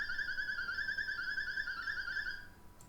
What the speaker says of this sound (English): With a high pitch, it sounds like this.